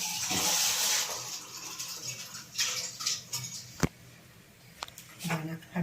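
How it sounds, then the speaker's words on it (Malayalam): Water splashes as it is poured into a pot of fish curry with tapioca on the side, a short run of pouring and a few drips coming up near and clear between quiet gaps. "ഇച്ചിരി വെള്ളം കൂടെ ഒഴിക്കാം."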